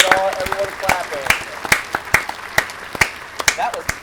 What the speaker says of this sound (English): So I can get everyone clapping.